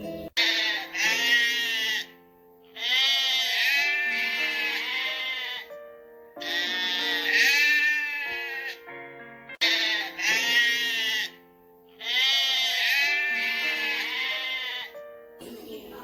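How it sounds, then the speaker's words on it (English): Repeated sheep bleats, loud and close, in four long bursts separated by short pauses. "Hoolaa, sheep."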